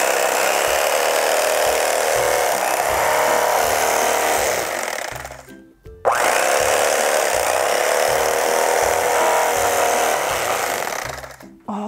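A Cuisinart CEK-30J electric knife saws through a tomato with a loud, buzzing motor whir in two long bursts separated by a brief stop, heard close up.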